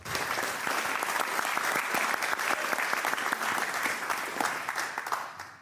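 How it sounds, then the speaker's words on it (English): An audience at a lecture on ancient Egyptian alchemy gives a sustained round of applause, dense and even, with individual claps audible, fading slightly at the end. "Round of applause for Michael"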